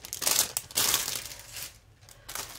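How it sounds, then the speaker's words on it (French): A butterfly-pattern pouch is unwrapped from its packaging, with loud close crinkling and rustling in several bursts separated by short quiet gaps. "Je vais la déballer, ça s'ouvre là, voilà."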